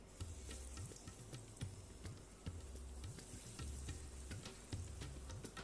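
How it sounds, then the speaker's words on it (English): Masala vada, a crispy chana dal snack, frying in hot oil over a medium flame: a steady, quiet sizzle with frequent small bubbling pops and ticks throughout, no talking. "I am going to fry it in hot oil in medium flame."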